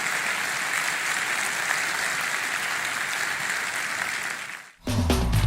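A church congregation applauds the Lord, a dense, steady wash of clapping from many hands that stops abruptly near the end, giving way to a low, booming sound.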